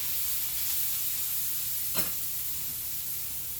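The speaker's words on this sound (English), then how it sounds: "So I got my onions over here. They're caramelizing." Onions caramelize in a hot pan, giving a soft, steady sizzle with a brief spit about halfway through and no voices.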